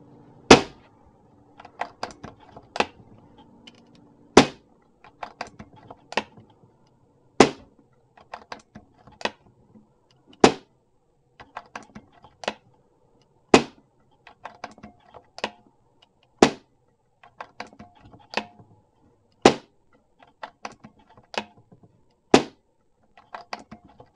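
An FX air rifle fires a ten-shot string during chronograph testing, with sharp, close snapping shots at a steady pace of a few seconds apart and quieter mechanical clicks between them, with no talking.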